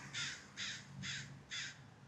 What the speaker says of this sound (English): you always be nice to crows because they remember.